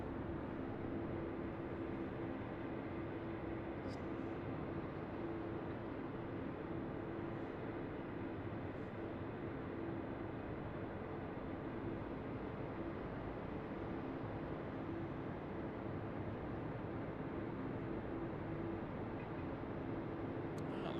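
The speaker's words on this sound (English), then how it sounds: "Just in time for the FedEx 767 Heavy." A FedEx Boeing 767 heavy arrives at Raleigh-Durham airport at sunset, its steady broad jet roar and rumble filling the scene at constant loudness with no voices.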